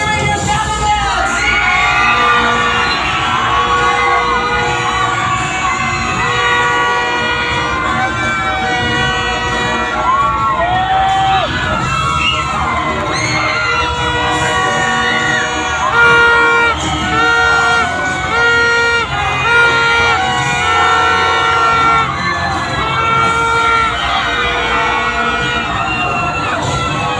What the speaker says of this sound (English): let me hear you people cheering your candidates!